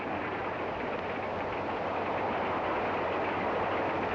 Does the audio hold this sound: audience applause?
no